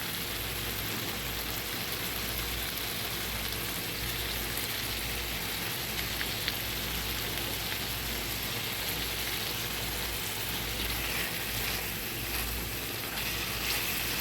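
Bain eel fish cooking down into a spicy dry bhuna in a pan, a steady broadband sizzle holding evenly throughout with no pauses and no voices.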